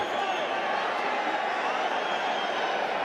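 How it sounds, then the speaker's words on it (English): A boxing arena crowd in Glendale doing the wave, a steady, broad roar of cheering voices rising and holding evenly throughout, far off and filling the space. "That's the sound you hear from this crowd."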